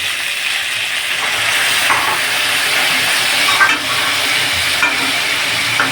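Mustard and poppy seed paste hits a hot pan and sizzles loudly and steadily, a close, continuous frying hiss with light stirring noises throughout.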